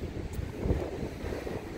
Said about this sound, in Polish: wiatr od oceanu.